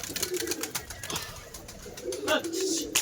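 Domestic pigeons in a Bengali loft of about twelve birds, including madrasi and local breeds, coo in low repeated bursts near the start and again toward the end over a steady background hiss.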